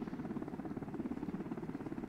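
MH-60L Black Hawk helicopter in Arma 2: a steady, close rotor thump with fast, even blade chop over a low engine drone, alone and fairly quiet.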